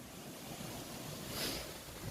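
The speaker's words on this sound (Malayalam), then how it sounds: "അത്രയും തണുത്ത കാറ്റ് വീശിക്കൊണ്ടിരിക്കുന്നതാണ്" Cold wind in Kodaikanal, Tamil Nadu, blows steadily in a broad, rushing roar that swells into a stronger gust midway, then settles back; no voices.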